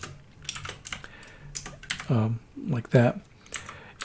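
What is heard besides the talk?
typing the R assignment arrow on a computer keyboard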